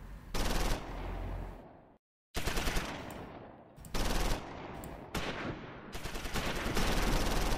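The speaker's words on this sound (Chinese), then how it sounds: "那我一开始就射击了" Gunfire in the video game Close Combat 5 during a Normandy beach landing, with loud machine-gun bursts and rapid rifle fire in several long volleys, split by a brief silent gap near the start.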